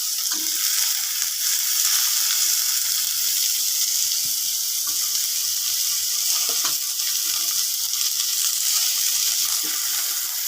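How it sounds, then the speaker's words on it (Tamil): Green chillies and tomato sautéing in an oiled pan for a Tamil shark fish curry, giving a steady, close sizzle and frying hiss throughout with faint occasional stirring scrapes and no talk. "நல்லா வதக்கிக்கோங்க"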